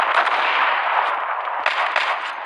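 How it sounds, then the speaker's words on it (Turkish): Sniper rifle gunfire in the mobile shooter Zula, a loud dense burst of shots that flares again near the end, with no talk. "Bu sniper'da atıyor."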